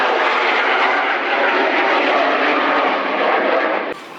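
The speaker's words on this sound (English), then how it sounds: "Hold on, I got a jet fly over here." A jet aircraft flies over at sea during an Atlantic sailing passage, a loud, steady broadband roar holding for several seconds before dropping off abruptly.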